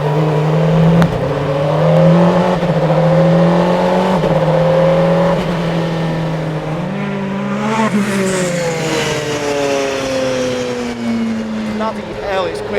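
Bentley Speed 8 Le Mans race car accelerating hard on a straight, its engine note climbing through the gears in loud rising sweeps with brief shift dips, heard from inside the car.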